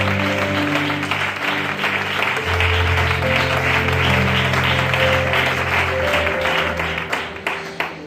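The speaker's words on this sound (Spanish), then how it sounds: "Pueden dar un aplauso al Señor" A church congregation applauds in a sustained wash of clapping, with a sustained musical drone underneath that fades toward the end.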